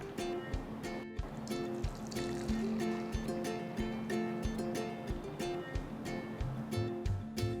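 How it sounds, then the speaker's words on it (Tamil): Milk, prepared for setting curd, trickles steadily into a clay pot with a thin, continuous liquid splash and a few small drips and knocks, faint and close with no voices. "இப்போ நம்ம ரெடி பண்ணி வச்சுருக்கிற பாலை ஒரு மண்பானையில் ஊற்றிக்கலாம்"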